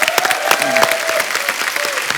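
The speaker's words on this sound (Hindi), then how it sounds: "इनके लिए जोरदार तालियां।" Studio audience at a Kapil Sharma comedy show breaks into loud, sustained applause and cheering for a guest being introduced, with a few whoops riding over the dense clapping.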